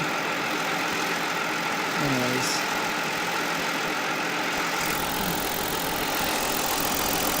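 A car engine idling after a throttle body modification, with the throttle stop screw raised to keep it from stalling, giving a steady, close, broadband rumble throughout and a brief faint voice partway in.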